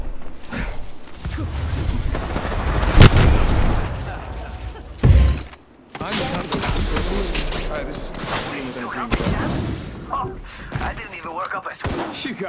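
Gunshots in Apex Legends come as scattered loud bangs and thumps amid game noise, with players talking throughout.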